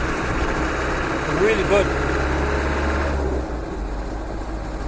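A tired Land Rover 110 engine with a non-working turbo drones steadily during a road test, a low, continuous rumble that eases slightly near the end while someone speaks briefly over it.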